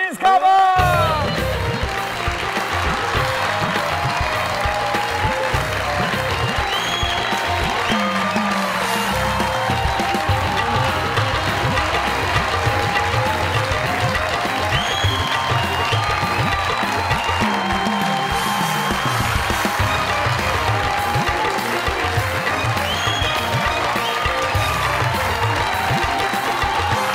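Studio audience at a comedy show claps and cheers as a guest actress is welcomed, sustained applause with a host's voice and music running over it throughout.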